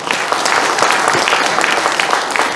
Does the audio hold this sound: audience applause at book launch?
yes